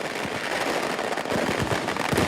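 Daytime fireworks at a Kerala festival burst as a dense crackling barrage, continuous rapid pops and bangs from a moderate distance with no clear voices.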